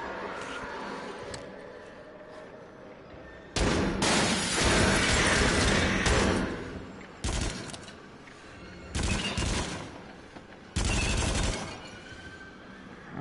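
Gunfire from a gun in a PlayStation VR shooter game, heard as loud bursts of rapid shots in four separate volleys over a quieter mechanical background, with no talking.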